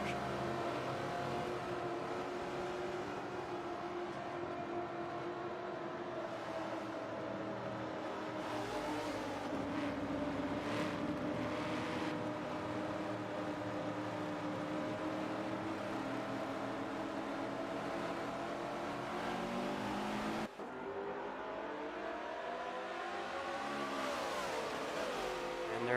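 NASCAR race cars run flat out through the Daytona tri-oval during the Daytona 500 in a sim race, a continuous layered engine roar with a pack of cars howling past and pitch sweeping near the end.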